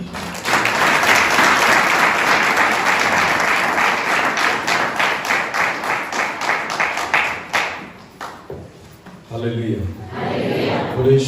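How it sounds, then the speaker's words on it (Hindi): A church congregation applauds, loud and sustained dense clapping for about eight seconds that thins out, followed by a brief lull and a voice. "हम उसको तालियों से वापस स्वागत करेंगे।"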